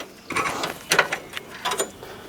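A hand ratchet with a 16 mm socket on a 3/8-inch drive works bolts loose on a 1976 truck, giving a few quick close clicking bursts of pawl action.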